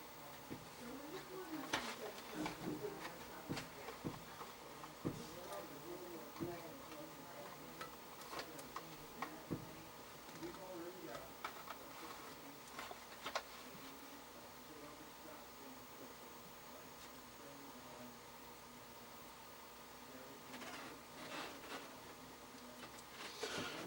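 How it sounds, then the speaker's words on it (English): A dog gnaws on a cardboard vacuum tube box in a room, producing faint, irregular crunching and ticking clicks scattered over a quiet background hum. "my dog is chewing on a vacuum tube box, because that's what he does"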